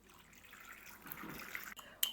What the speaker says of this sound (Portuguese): Coloque água até cobrir.